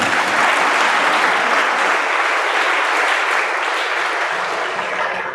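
Steady, dense applause from students in a classroom, loud and continuous throughout with no talk over it.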